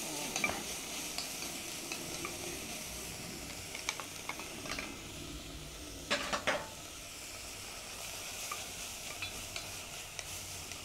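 Corn is stirred into a pot of vegetables for a halal New England clam chowder. The result is a faint, steady sizzle with soft scraping and occasional clinks of a utensil against the pot. There is no talking.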